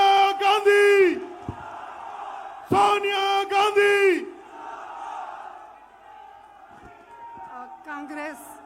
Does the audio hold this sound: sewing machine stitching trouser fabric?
no